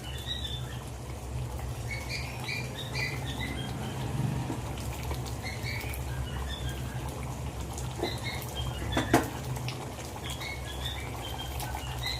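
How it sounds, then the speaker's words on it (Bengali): Chicken curry with tomato being stirred in a pot, giving a steady soft bubbling and patter with small scraping clicks, continuous and close, with no voices. "এবার আমি একবার ভালো করে নাড়াচাড়া করে নেব"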